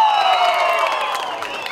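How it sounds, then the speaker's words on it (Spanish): Visiting spectrators at a rural jaripeo in San Pedro Tres Arroyos send up a sustained roar of cheers and whoops mixed with applause, steady and fairly loud, with a loudspeaker voice carrying across it. "Y abulla el grito de los aplausos de la gente visitante."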